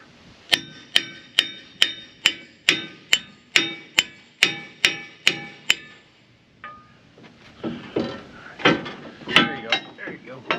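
About a dozen sharp, evenly spaced hammer strikes ring on a metal dozer bushing, followed by irregular clanks and knocks.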